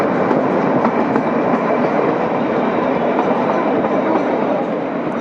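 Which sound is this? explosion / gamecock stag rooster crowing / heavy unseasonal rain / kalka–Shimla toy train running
kalka–Shimla toy train running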